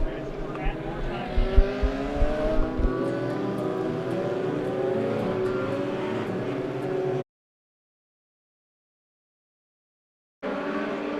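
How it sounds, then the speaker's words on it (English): Race cars accelerate hard on a dirt speedway, a loud layered engine roar with revving bursts early on and an announcer talking over it before a sudden dropout and return. "they hit the loud pedal right there between 1 and 2"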